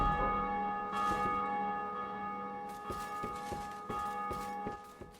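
A bell in Dark Souls 2 rings with a sustained metallic tone, then a run of several quick repeated strikes, moderately loud with a humming background.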